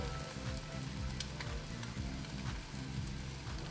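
Eggs fry in a hot pan with a steady, close, crackling sizzle that runs unbroken and alone throughout.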